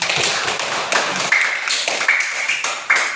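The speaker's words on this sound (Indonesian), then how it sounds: "berikan tepuk tangan" Classroom clapping in a rhythmic group pattern, a series of sharp, evenly spaced claps with bright ringing accents, fairly close and alone without speech.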